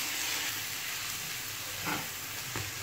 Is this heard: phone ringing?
no